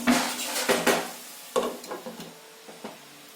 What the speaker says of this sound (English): Just close the lid and let the onions cook.